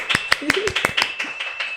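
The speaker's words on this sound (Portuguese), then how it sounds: "Uma salva de palmas!" A short burst of applause from an audience welcoming a guest onto a podcast: a run of quick hand claps under a speaking voice.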